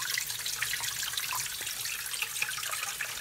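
Water pours steadily into a sump pit at a high inflow rate, a continuous hissing, splashing rush close by with no talk over it.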